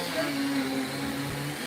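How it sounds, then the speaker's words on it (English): A blender whirs steadily as it purées basil and pine nuts for pesto, a continuous moderate motor drone with no talk. "we are going to start by blending"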